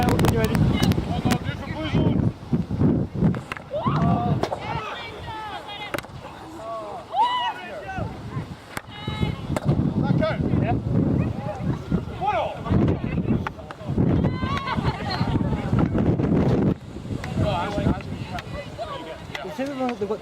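Wind buffets the microphone on a boat out on the water, a loud, steady rumbling roar with gusty swells, while people talk over it.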